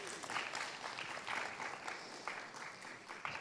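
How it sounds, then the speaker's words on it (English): An audience at a youth empowerment conference applauds steadily for a few seconds, the clapping dense and even throughout, with a faint voice just underneath. "So, yes, round of applause,"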